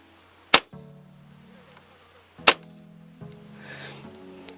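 Custom Tokyo Marui Hi-Capa airsoft pistol firing indoors, two sharp, loud pops about two seconds apart with a faint electronic hum in between and a small click at the end.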